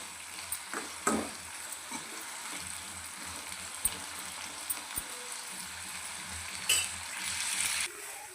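Onion and tomato fry quietly in a pan for okra palya, a soft, low sizzle with occasional taps and scrapes of stirring.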